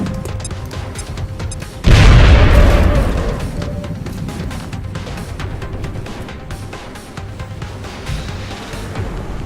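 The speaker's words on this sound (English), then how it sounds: "Grenade! End them right here." A grenade detonates in the turn-based strategy game XCOM: Enemy Unknown, one loud booming blast that decays over a couple of seconds into rumbling background game ambience.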